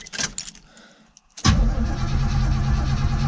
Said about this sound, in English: Let's hop inside and see if she'll crank.